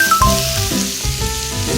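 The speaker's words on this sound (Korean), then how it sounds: "이렇게 베이컨에서 기름이 나오도록 노릇노릇하게 구워주시고요" Bacon crackling and sizzling in a hot pan as its fat renders, a loud, close, continuous fizz with faint tonal noises over it.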